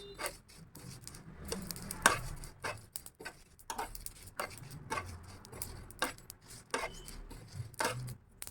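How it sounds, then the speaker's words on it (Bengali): Whole cumin and coriander seeds are dry-roasted lightly in a kadai, with repeated dry scraping and rattling strokes of a spatula against the pan in an irregular, close, moderately loud rhythm. "গমরি গোটা জিরে আর ধনে এগুলো আমি হালকা করে ভেজে নেব"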